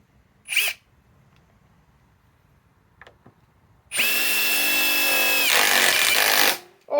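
Metabo HPT cordless impact driver running, a brief chirp, then a loud, close, high-pitched whirring hammer burst lasting about three seconds before cutting off.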